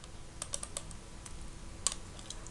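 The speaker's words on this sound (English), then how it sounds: "We type here" Typing on a computer keyboard while working in AutoCAD on an isometric drawing: a loose run of light key taps, a few quick clusters and one sharper tap late on, close and fairly quiet with no talking.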